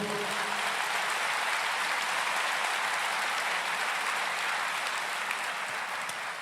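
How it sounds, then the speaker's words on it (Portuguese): Sustained applause from a church congregation during a Portuguese-language sermon, a dense and steady wash of clapping that holds at an even level throughout with no voices standing out. "Você pode aplaudir o Senhor?"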